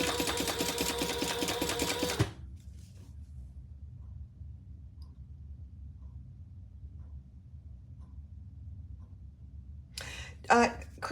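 A sewing machine stitches a pebble mini sling in a short loud whirring burst at the start, then a quiet room hum with a brief clatter near the end.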